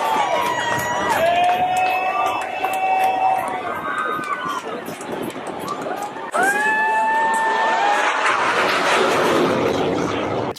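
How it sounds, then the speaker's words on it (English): A large crowd gathered on the beach at the Pensacola Blue Angels air show, a loud outdoor murmur of many voices with shouts and cheers, ending in a broader rushing roar. "There's just so many people on the beach."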